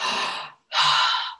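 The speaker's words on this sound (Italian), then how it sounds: "è il suono del respiro che entra" Two slow, audible breaths through the nose, an inhale and then a second breath after a short pause, close and soft with a gentle airy hiss, as in calm meditative breathing.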